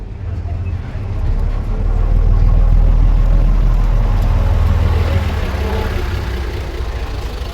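A vintage Bristol single-decker bus from the mid-1970s runs at a steady low diesel rumble, close by, swelling slightly louder midway through before easing off, with no one talking.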